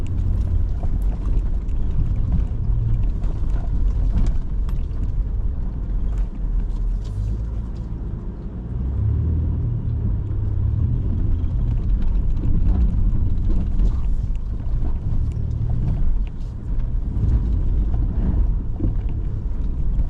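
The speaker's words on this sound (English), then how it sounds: "Just watch this 3rd generation Toyota Tacoma take on the trail." A 3rd generation Toyota Tacoma crawls over the rutted Mojave Road desert trail with a continuous loud, low engine and tire rumble, plus scattered knocks and rattles from the rough ground.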